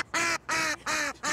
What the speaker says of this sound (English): Right, we've chosen our ducks.